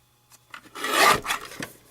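A paper trimmer slicing a strip of paper, one short close rasping cut that swells and fades within a couple of seconds in a quiet room.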